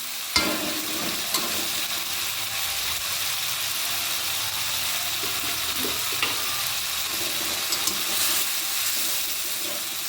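Potato pieces stir into a watered-down spice masala for dhokar dalna, a steady close frying hiss with occasional sharp clinks and scrapes of a spoon against the pan, no voices.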